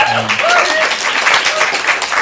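A stand-up comedy audience applauds, a dense wash of clapping in the room, while a few voices and laughs mix in.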